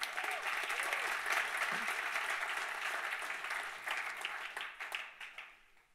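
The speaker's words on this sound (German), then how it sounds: "Also dafür nochmal kurz und heftig klatschen." An audience at an education awards opening speech in Germany bursts into strong, dense applause that stays loud for several seconds, then thins into scattered claps as it fades toward the end.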